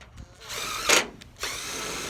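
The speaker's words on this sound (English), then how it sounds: "I'm gonna use a self-tapper to get the hole started." A power drill drives a self-tapping screw into a double-layer aluminum gutter clip in short bursts of high whirring, one sharp peak in the middle and another run at the end.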